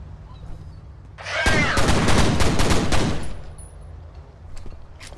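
A rapid burst of pistol gunfire in the shooter game F.E.A.R. crackles loudly for about two seconds, a dense string of sharp shots followed by quieter scattered pops and faint game ambience.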